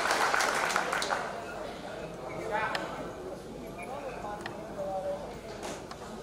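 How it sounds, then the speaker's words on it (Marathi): An audience claps for an honourable MLA at a film studio workers' union gathering, a scattered burst of applause at the start that thins out beneath a speaker's amplified talk. "जोरदार टाळ्या सन्माननीय आमदारांसाठी."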